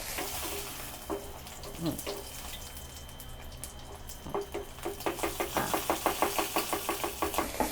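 A salted duck egg fries in hot oil with a steady sizzle, and a run of rhythmic scraping knocks from a spatula grows louder and quicker toward the end.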